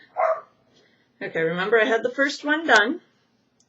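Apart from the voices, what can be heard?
dog barking at people outside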